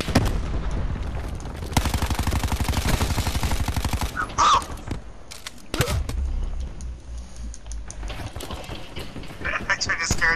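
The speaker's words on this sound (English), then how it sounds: "It takes that many shots with the SDM" Rapid bursts of SDM rifle fire in Black Ops 4 crack out in quick repeated volleys, loud and close, with a few sharp metallic clicks and impacts between them over steady game noise.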